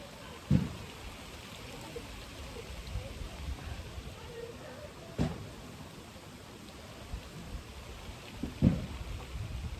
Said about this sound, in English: I sat right underneath this tree. So I'm protected from the rain.